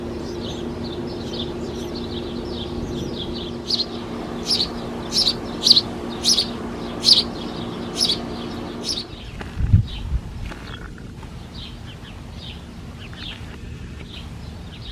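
Small garden birds chirping in a run of short, bright, evenly spaced calls over a steady low background hum; the chirps stop partway through, leaving quieter ambience.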